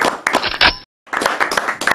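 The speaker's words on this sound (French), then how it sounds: "On peut l'applaudir." Audience applause in a studio broadcast setting, dense close clapping cut by a brief silent gap before resuming just as loud.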